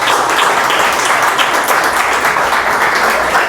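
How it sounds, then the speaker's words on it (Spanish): A church congregation at a sermon on breaking curses applauds loudly for Jesus, a thick, continuous roar of many hands clapping at once, steady and sustained without a break. "Fuerte el aplauso a Jesús."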